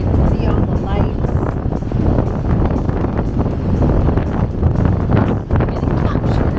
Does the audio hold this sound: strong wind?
yes